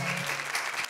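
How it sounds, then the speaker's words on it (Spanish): Audience applause at a live norteño show by Los Intocables del Norte, a dense, steady clapping that fills the whole second at close range, with a low held tone fading out early. "Gracias por los aplausos, señores."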